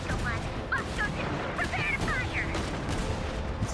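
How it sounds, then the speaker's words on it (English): Cannon and rapid gunfire from Genshin Impact combat, a dense continuous barrage of shots and booms running throughout, with chirpy in-game effects layered above. "It's a cannon. This one's more OP. Unlimited ammo."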